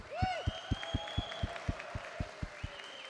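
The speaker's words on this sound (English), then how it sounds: "Can we get a round of applause, please?" At an esports tournament, the HADO European Championships, an audience gives faint, regular claps in a steady rhythm while sustained electronic tones and music play over them.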